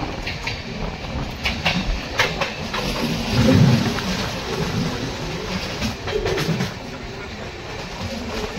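The Coromandel Express pulling into Bhadrak station makes a continuous close rumble with rolling wheel clatter and a low swell mid-way, and no clear speech stands out over it.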